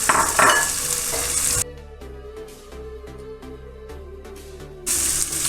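Onions cut into square pieces fry in a hot pan for Trivandrum-style vada koottu curry, giving a steady close sizzle with stirring scrapes, loud at the start and end with a quieter stretch in the middle.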